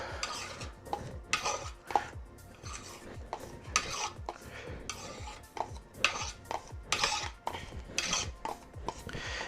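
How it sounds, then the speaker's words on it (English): A tool scrapes layered paint across a board in repeated short strokes, a rough rasping sound with clicking contact noises. The strokes are close and fairly quiet, with no voices. "So let's scrape this up"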